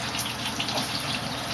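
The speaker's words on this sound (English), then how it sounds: "Let me just get some water." Water gushes from a kitchen tap in a steady, fairly quiet rush, heard alone and close by.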